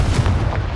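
A Confringo blasting spell detonates in Hogwarts Legacy, a single heavy, low booming burst that rumbles loudly for under a second.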